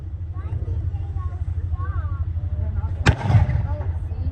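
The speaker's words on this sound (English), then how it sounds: "One shot by the M60." A single sharp, booming cannon shot from an M60 tank at a battle event, standing out briefly above steady talk and a low, constant engine rumble.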